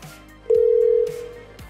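A telephone line on a live call-in show gives one clear, loud electronic ring tone lasting about half a second, followed by a fainter fading tail and quiet line noise.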